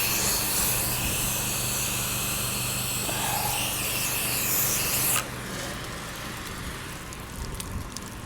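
Soap solution hisses steadily from a sprayer as a house is softwashed, a loud, continuous close spray lasting about five seconds before cutting off to quieter background.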